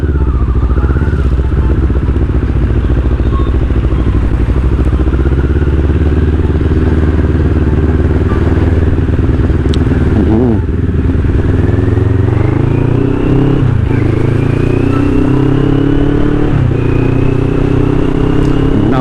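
A motorcycle taken out for a ride drones loudly and continuously near the listener, its engine note climbing and shifting as it accelerates, with rattling and scraping under the steady roar and no speech.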